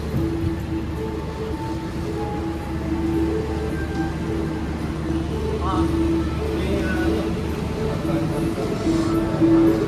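The Manahan Tambahan executive train at Yogyakarta station rumbles steadily with a low, continuous roar and faint tonal whines, while voices talk over it throughout.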